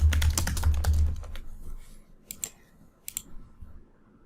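Typing on a computer keyboard: a quick run of close, crisp key clicks at first, then a pause followed by a few sparse clicks.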